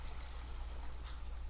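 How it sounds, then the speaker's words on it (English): Water from several source blocks flowing in the Minecraft video game, a soft steady trickling wash that runs quietly and evenly throughout, with no talk. "Multiple source blocks of water."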